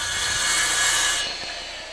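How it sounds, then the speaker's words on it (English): A circular saw with a carbide-tipped blade cuts through vinyl or fiber-cement siding, a loud, steady high-pitched whine with grinding that lasts over a second before easing off. "You can also use a circular saw with a carbide-tipped blade."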